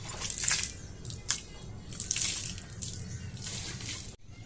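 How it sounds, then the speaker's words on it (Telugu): Water sprinkled by hand over a courtyard floor, washing away yesterday's rangoli before a new one is drawn: a run of soft wet splashes and patters, fairly close, with a brief hush near the end. "ఇదంతా వాటర్ చల్లేసుకొని ముగ్గు పెట్టుకోవాలి"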